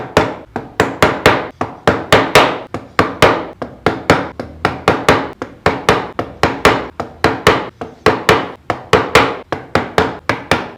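A fine wood chisel struck repeatedly while carving hardwood in rustic woodworking, sharp close knocks in a fast, fairly even rhythm, about two or three per second, with no talking.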